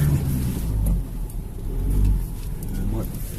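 A Ford Ranger pickup crawls off-road over rough terrain, its engine rumbling and revving in low, uneven surges, while voices speak over it.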